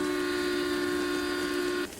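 A train sounding a long steady horn as it starts to move, loud and sustained before cutting off abruptly into a lower rumble, no talking.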